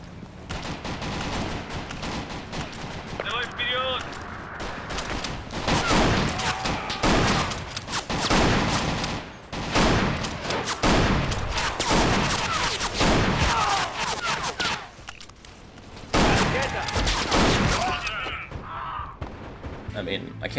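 Gunfire from the Battlefield 2 Point of Existence mod cracks out in repeated bursts and single shots with booming impacts, nearly continuous over the clip, while someone talks over it.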